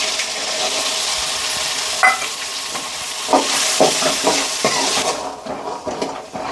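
Boiled green peas fry in a hot pan with onion for paneer masala, giving a continuous loud sizzle while a spoon scrapes and clinks against the pan in several uneven strokes toward the end.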